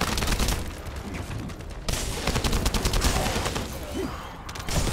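Bursts of rapid gunfire from a shooter looter video game crackle steadily over a dense, noisy battle mix for several seconds, with a brief drop near the two-second mark before the shooting resumes.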